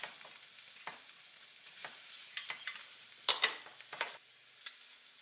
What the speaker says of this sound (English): At the same time, in another pan, cook sausage and slices of halloumi.